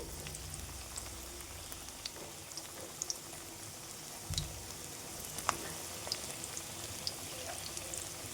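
Semolina pakoras deep-frying in hot oil, a quiet, steady crackle and bubble with scattered small pops throughout.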